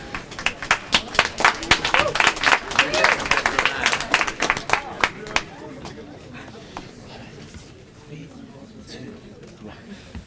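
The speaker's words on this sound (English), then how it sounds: "Clap 'em up." Audience at a sophomore story slam in Madison breaks into loud, dense clapping that runs for about five seconds and then stops abruptly, leaving faint room noise behind.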